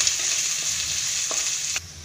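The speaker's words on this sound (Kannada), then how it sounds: "ಇವಾಗ ಆನಿಯನ್ ಸ್ವಲ್ಪ ಗೋಲ್ಡನ್ ಬ್ರೌನ್ ಬರೋವರೆಗೂ ಫ್ರೈ ಮಾಡ್ಕೊಳ್ಳೋಣ." Half an onion frying in oil toward golden brown for egg fried rice, a bright steady sizzle with a few faint stirring clicks, easing slightly at the end.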